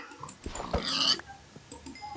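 A tamed wolf dog in the game Minecraft gives a single short, close bark-like yelp, with faint game sounds before and after.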